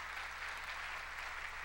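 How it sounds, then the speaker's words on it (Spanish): A church congregation at a Sunday service applauds in a steady, even wash of clapping that sounds somewhat distant and fairly soft. "Démosle un aplauso al Rey de Reyes y Señor de Señores"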